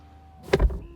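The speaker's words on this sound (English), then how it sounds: "Let's shut out the outside world with closing the door." A single solid thud of a Rolls-Royce Phantom car door shutting, brief and close, with a short low rumble after.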